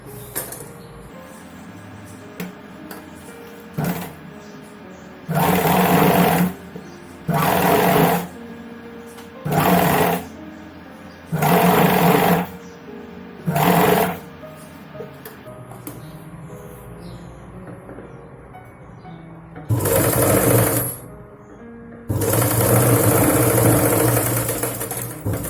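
A sewing machine stitches piping onto the neckline of a Punjabi dress in several loud, close bursts of rapid mechanical whirring separated by short quiet pauses, ending with two longer runs.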